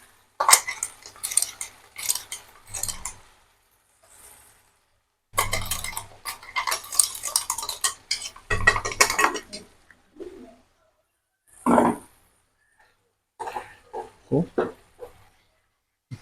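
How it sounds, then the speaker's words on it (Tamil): Chicken legs turned in ground masala in a pan, heard as several short bursts of clinking and scraping utensil sounds separated by quiet gaps, close and moderately loud. "இப்போதைக்கு நம்ம இதை லைட்டாக திருப்பி விட்டுருக்கோம் ஒரு சிக்கனையும்"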